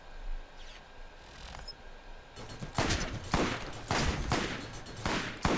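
Gunfire in the Borderlands video game, with a quiet opening of faint game ambience and then a rapid series of loud, sharp shots that fire in bursts for the remaining few seconds.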